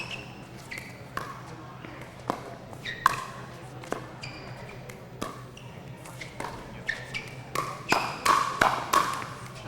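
Sharp wooden-sounding pops of pickleball paddles striking a plastic ball during a pro men's gold medal indoor rally, spaced taps that speed into a quick flurry near the end, with faint speech and crowd murmur beneath.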